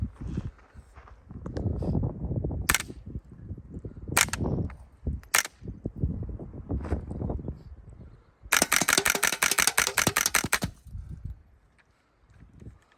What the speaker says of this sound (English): I'm gonna try to shoot to the dirt here so you can get a little better sound with how it sounds.